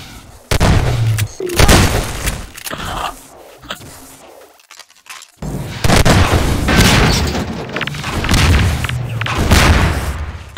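Rocket launcher explosions in Half-Life 2 Deathmatch, several heavy booming blasts and thuds in bursts, loud and close, with a brief quiet gap midway.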